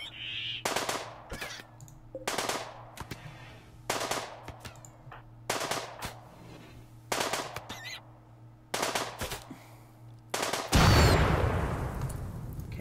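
Bursts of automatic gunfire in the colony-survival game RimWorld, roughly a dozen short volleys at steady intervals, loud and close, ending in a louder rumbling blast or burning roar, with no talking.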